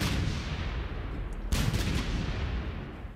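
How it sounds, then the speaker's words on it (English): Artillery fire in a Stalingrad war video game thunders continuously as dense booming blasts, with a sharper, louder burst partway through and no voices. "One artillery there."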